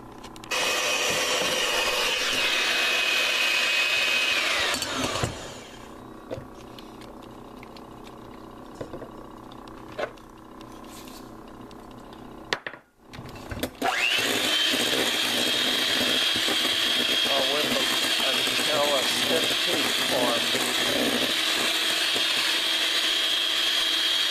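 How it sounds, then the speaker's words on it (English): An electric mixer whipping egg whites with sugar and vanilla: a loud steady motor whine, near and continuous, dropping to a quieter rattle midway, cutting out briefly, then running at full speed again. "Egg whites ready to be whipped in with the sugar and a little of the vanilla."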